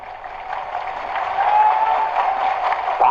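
Crowd clapping at an outdoor political rally, a diffuse, somewhat distant patter of applause that swells slightly midway, with a faint tonal note over it.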